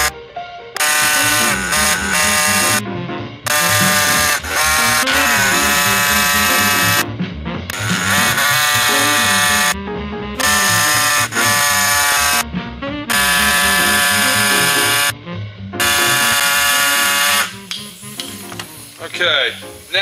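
A power tool cuts a pickup hole in an electric guitar body, giving loud, harsh buzzing runs that stop and restart several times with short pauses.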